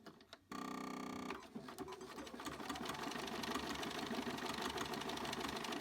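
A Bernina 5 Series sewing machine begins stitching an embroidery design: a brief beep-like tone, then a steady rapid mechanical whir and needle chatter that settles into a continuous rhythmic run, close by.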